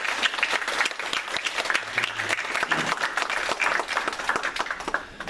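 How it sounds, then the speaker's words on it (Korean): A church congregation breaks into welcoming applause during a Sunday worship service, dense steady clapping from many hands filling the room for about five seconds. "환영의 박수 한번 하도록 하겠습니다"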